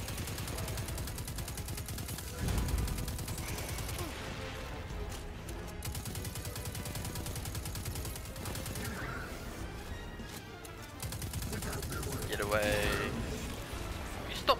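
Rapid gunfire aimed at the player in the Destiny 2 closed beta on PS4, with bursts and shots running steadily through the whole stretch, loud and close, while someone talks over the combat.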